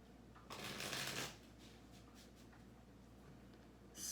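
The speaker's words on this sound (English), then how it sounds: "let's get some more cards out here" Tarot cards riffled and shuffled during a reading, a short burst of soft papery fluttering followed by light slides and taps as cards are laid out, close and faint in a quiet room.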